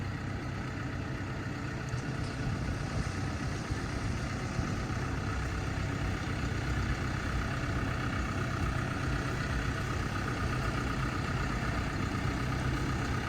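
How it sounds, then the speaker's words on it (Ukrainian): A BASAK 2110S tractor running on Trimble GPS navigation with no operator aboard hums steadily with a continuous low engine drone, constant in level and unbroken throughout. "Оператора в тракторі немає. Навігацію запустили, він їде."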